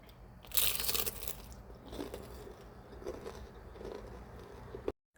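A homemade samosa is bitten with a loud close crunch, followed by several seconds of soft, moist chewing before the sound cuts off abruptly.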